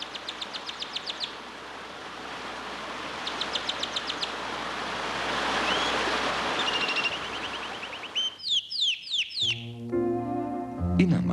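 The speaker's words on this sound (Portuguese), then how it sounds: "Tem até cachoeira." Waterfall in a large cerrado nature reserve, a broad steady rush of falling water filling the scene with bird trills and chirps over it, later giving way to other louder sounds.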